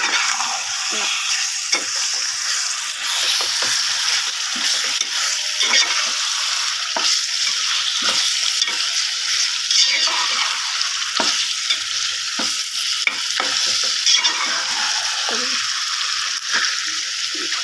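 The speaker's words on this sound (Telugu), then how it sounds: "ఇట్లా గడ్డలు కడుతున్నప్పుడు ఇట్లా కొంచెం చిన్న చిన్న ముక్కలు కావాలని ఇలా కలుపుకోవాలి" Goat blood fry (vēṭa netturu) being stirred in a pan as it clots into small pieces, a steady loud sizzle with repeated scraping stir strokes throughout, no talking.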